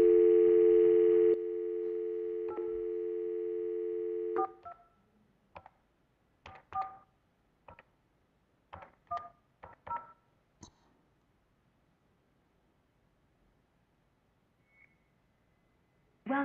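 A dial tone sounds on a telephone before being cut off, followed by a string of keypad dialing tones, short separate beeps at an uneven pace, close and clear with no talk.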